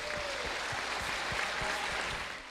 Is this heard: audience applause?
yes